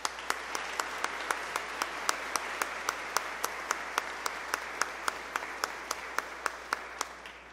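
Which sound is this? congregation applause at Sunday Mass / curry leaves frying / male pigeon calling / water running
congregation applause at Sunday Mass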